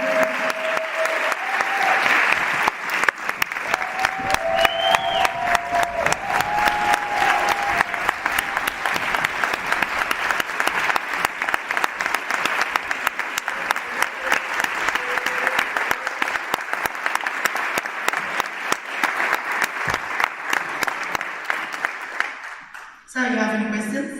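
An audience at a council general assembly applauds for over twenty seconds, steady dense clapping from a large hall with a few voices calling out over it, ending in a quick drop near the close.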